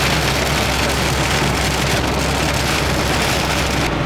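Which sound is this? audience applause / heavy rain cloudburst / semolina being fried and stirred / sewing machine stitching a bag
heavy rain cloudburst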